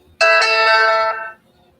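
A phone ringtone chimes loudly once, a bright tonal melody of a few quick notes lasting about a second before cutting off into quiet.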